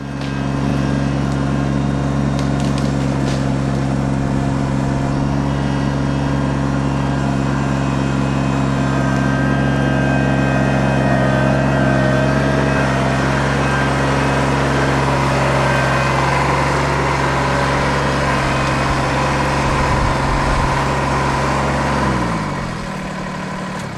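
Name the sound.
small tractor engine lifting a tree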